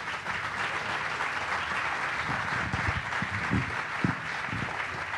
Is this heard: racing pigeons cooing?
no